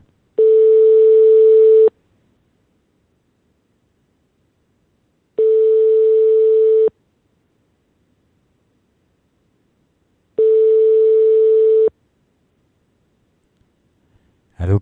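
Telephone line ringing during a call, three long, evenly spaced tones with silent gaps between them, close and clear, followed by a brief sound at the very end.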